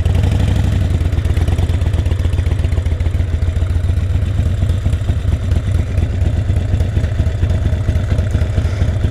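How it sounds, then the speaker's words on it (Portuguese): Harley-Davidson Sportster Roadster engine idling at a stop, a loud, steady, lumpy low rumble with rapid pulsing beats and mechanical clatter, continuous and close with no talking. "primeiro ponto negativo aqui da moto é que ela é bem barulhenta"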